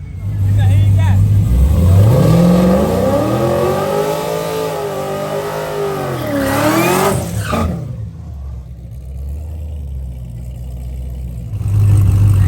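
A supercharged Cadillac CTS-V revs hard on a race track, its engine climbing and falling in pitch through a long loud run before dropping away, then rising again briefly at the end. Talk can be heard over it.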